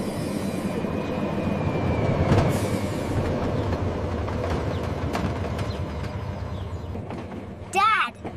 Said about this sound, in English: This tram is cool